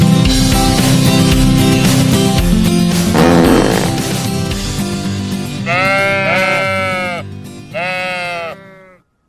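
A few loud, wavering sheep bleats come one after another after a stretch of bright children's nursery-song music, ending with a final bleat before silence.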